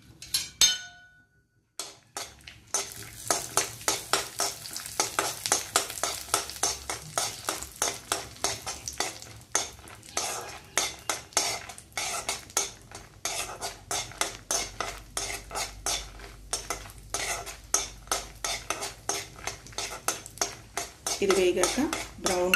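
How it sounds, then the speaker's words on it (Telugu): Thin almond slices frying in ghee in a hot pan (kadai), with a spatula clinking and scraping steadily against the metal over a soft sizzle, close and continuous after a brief quiet start. "ఆ తర్వాత సన్నగా కోసిపెట్టుకున్న బాదం ముక్కల్ని వేయించుకోండి"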